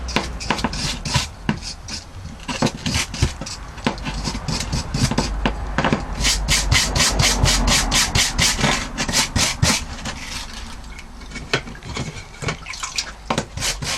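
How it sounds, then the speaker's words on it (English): Brass bristle brush scrubbing scale off a hardened knife blade, rapid rhythmic rasping strokes close up, speeding into quick bursts midway before slowing again. "So I get most of it off with the brass brush, the brass bristle brush rather."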